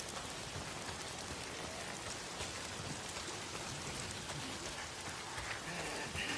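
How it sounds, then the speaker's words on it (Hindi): Heavy rain pours down steadily in the video game Days Gone, a dense, even hiss of falling water that stays loud and unbroken throughout, with no one speaking. "अरे ये बारिश।"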